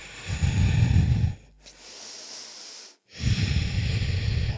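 Slow, calm breaths during a morning yoga session: a long airy exhale, a pause, then another soft drawn breath, close and steady with no talking.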